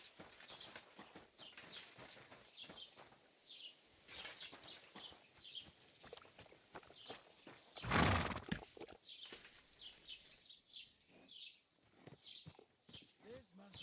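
Quiet, irregular clip-clop of a horse's hooves in Kingdom Come Deliverance 2 comes in scattered steps, with a louder burst midway and characters talking over it.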